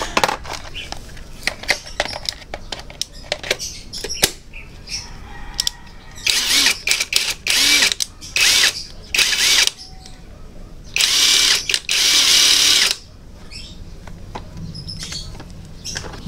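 A cordless Makita impact wrench loosening the CVT nuts on a Honda Click 125i scooter, using 19mm and 22mm sockets. Loud bursts of rapid hammering sound in several spaced runs, the longest lasting about two seconds, with quieter clicks and handling noises between them.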